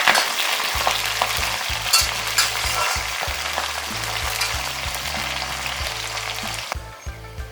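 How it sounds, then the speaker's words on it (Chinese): Scallion greens, ginger peel, Sichuan peppercorns and star anise frying in oil over low heat, a steady close crackling sizzle with quick tonal beeps underneath, continuous and fairly loud. "小火炸出香味儿"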